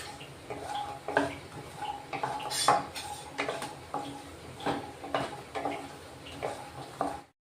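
Nuts roasting in a spoonful of ghee in a pan, heard as repeated metal spoon clinks and scrapes against the pan in an irregular close rhythm over faint background, ending abruptly.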